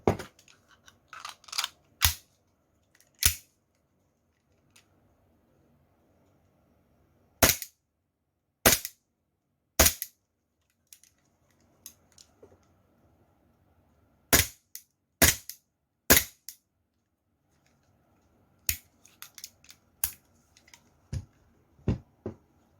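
Tokyo Marui 1911 airsoft pistol with its blowback slide cycling, sharp close metallic clacks fired singly and in quick bursts of two or three, separated by quiet pauses.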